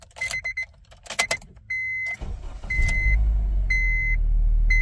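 A 2007 Honda Civic that had been misfiring and hesitating cranks over and catches, then settles into a steady close idle. Car keys jangle and electronic chimes beep repeatedly through the start.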